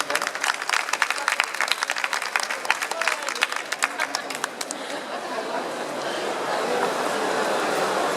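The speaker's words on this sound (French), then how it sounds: "à mériter tous ces applaudissements" Audience applause for the winner of a fantastic short story prize at an award ceremony, dense clapping over crowd chatter that thins after a few seconds into a steady murmur of voices.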